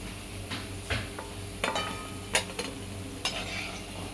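Onion bhaji frying in hot oil gives off a faint, low sizzle, broken by a few sharp scrapes and clinks of a slotted spoon stirring and lifting the fritters.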